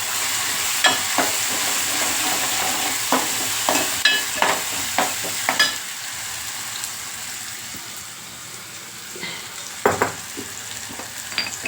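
Shrimp frying with turmeric in a pan while being stirred: a continuous hiss of sizzling oil with a string of light utensil scrapes and taps, a cluster early on and a few more near the end.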